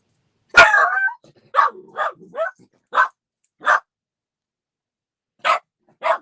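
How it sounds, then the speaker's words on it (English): A dog barks indoors: one loud bark, then a run of shorter yips and woofs at uneven intervals, with a break before two final barks, all close by and no talking. "Sorry about the dog."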